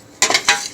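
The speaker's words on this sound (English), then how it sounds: "continue to stir this rice as it's starting to toast off a little bit" Rice being stirred as it toasts in a frying pan for chicken fried rice, two or three close, scraping swishes of a utensil against the pan with faint sizzling, no speech.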